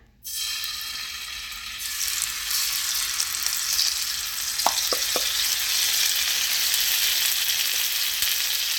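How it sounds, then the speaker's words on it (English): Spices dropped into hot oil in a pan, sautéing for tacos; a sudden loud hiss bursts in at the start and settles into a dense, steady sizzle, with a few light utensil taps midway and no talking. "So our oil is about hot right now. And the first thing I'm going to do, I'm going to add my épices to my pan."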